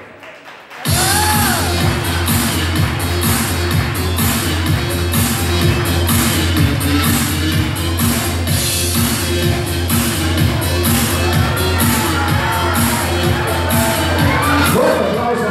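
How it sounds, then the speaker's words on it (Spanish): A large crowd at a fashion show applauds and cheers with whoops and shouts, sustained and loud over a pulsing music beat. "El fuerte aplauso para esta gente fashionista"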